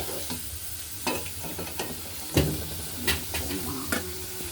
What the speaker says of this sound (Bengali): এবার আমি এই তেলে একটু কালো জিরা ফোড়ন দিয়ে দিলাম